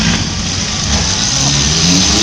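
Cars at a night demolition derby at the Skowhegan State Fair, with three battered cars left in the heat, firing their engines back up, a loud continuous roar of rough motors and revving with crowd noise behind it.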